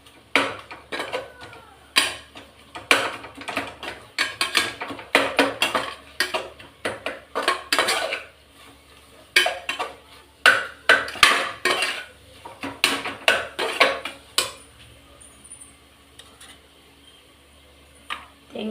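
Spices being stirred into a pot of kuska katrika (brinjal) gravy, a metal spoon scraping and clinking against the pan in repeated bursts of rattling strokes, close and alone with no talk.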